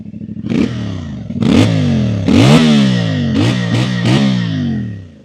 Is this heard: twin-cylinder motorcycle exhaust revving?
yes